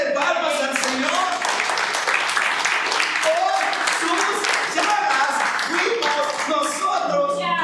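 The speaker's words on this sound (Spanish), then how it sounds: "Dale una ofrenda de palmas al Señor" A church congregation clapping hands together as an offering of praise, dense continuous applause with people talking and calling out over it.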